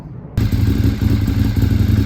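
A Ducati 848 V-twin with an aftermarket exhaust fires up and settles into a loud, close, lumpy idle with a steady uneven throb after a short quiet start.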